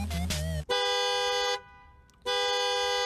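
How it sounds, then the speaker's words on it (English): A car horn sounds in two loud, sustained, steady-pitched blasts separated by a short lull, after a brief burst of other sound at the start. "Okay, so we hear a car. Hear a car horn."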